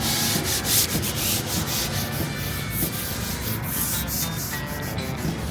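Painters scraping a building frame before painting it black, a continuous loud rasping scrape with repeated strokes, close by and without talk.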